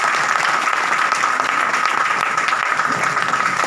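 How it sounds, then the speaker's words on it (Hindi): Loud, dense applause from an audience at a business meeting, steady and sustained throughout with no pauses or talking. "जोरदार ताली होनी चाहिए"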